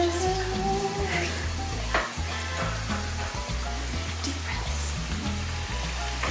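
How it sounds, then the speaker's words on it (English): Empanadas frying in hot oil, a continuous crackling sizzle that carries under steady background music throughout, with no voices. "And you should fry them for 2 minutes on each side."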